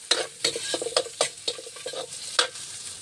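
Ginger, garlic and onion sizzle in hot oil while a utensil stirs and scrapes the pan in quick, irregular strokes, close and fairly quiet, with no talk.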